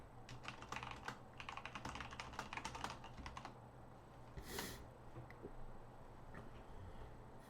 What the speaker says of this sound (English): I'm going to type in the thing here.